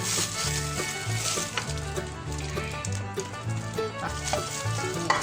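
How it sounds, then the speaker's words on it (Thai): Sticky rice cake sizzles steadily in a hot pan over low heat, a soft constant crackle nearly buried under loud background music with a deep, stepping bass line. "ใส่กระทะเลย สำหรับคนที่อยู่หอเอาเตาขึ้นไม่ได้นะพี่น้อง"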